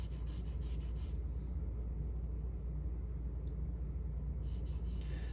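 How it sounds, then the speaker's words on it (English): A straight razor rubbed on a sharpening stone to work out a chip in the blade, steady gritty rasping strokes at close range, a rhythmic scraping at the start and end with a continuous quieter grind between. "I'm just lifting it off, lifting the spine off the stone, and just working that chip right out."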